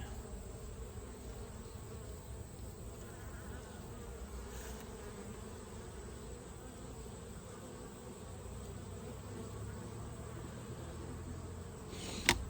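Honeybees buzz steadily around hives during a summer feeding visit, a continuous low drone close by that holds at even loudness throughout, with a brief sharp knock near the end.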